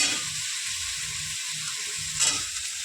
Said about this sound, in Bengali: এবার চিকেনটা ছাড়িয়ে দেবো, আমি ছেড়ে দেবো